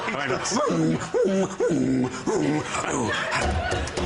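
A man vocally imitates a dog, with a series of rising whimpering yips and huffing snuffles in a quick rhythm, and some scratchy noise around them.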